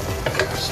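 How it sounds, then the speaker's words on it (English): Tomato puree masala is stirred in a hot pan, with a couple of quick scraping strokes over a soft background sizzle. "Stir this really well."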